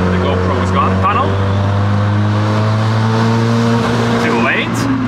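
Turbocharged 4AFE four-cylinder in a first-generation Toyota MR2 AW11, pulling steadily at part throttle with a loud, constant engine drone and turbo whine from inside the car, while a voice talks over it.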